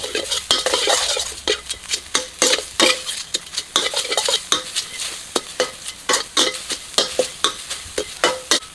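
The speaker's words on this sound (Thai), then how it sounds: "ในกระทะเอามาคั่วไม่ต้องใส่น้ำมันนะครับ" Pounded ingredients dry-roast in a hot pan with no oil for a Thai pork dish, a spatula scraping and tossing them in quick, uneven strokes with a light crackle underneath, close and steady throughout.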